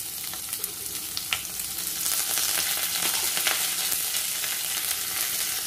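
Thinly sliced onions and curry leaves frying in oil in a pan, a close, continuous hiss and crackle with a few sharp spits, swelling louder partway through.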